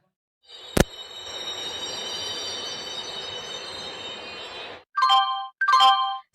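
A train rolls along its rails as a skit sound effect, a sharp click opening a steady rumbling run with high wheel squeal that cuts off, followed by two short bursts of ringing tones.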